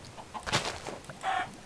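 Minecraft chickens clucking, a couple of short quiet bird calls in a brief burst from the game, alone without talk.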